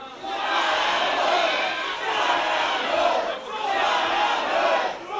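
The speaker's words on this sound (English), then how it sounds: "I want you to say shout out Hoods three times really loud" A bar crowd shouts a chant loudly in unison three times, each rhythmic burst of many voices separated by short pauses.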